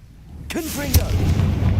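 A Confringo fire spell bursts in Hogwarts Legacy, a sudden loud blast with a sharp crack and rumbling tail, followed by a second heavier boom and sustained low roaring; a voice speaks over the start.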